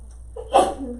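A single quick sneeze bursts out briefly in a quiet physics classroom.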